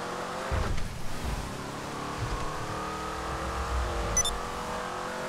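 Truffade Z-Type car engine in GTA Online revving steadily with a low droning tone and rising pitch swells, loud and continuous without speech.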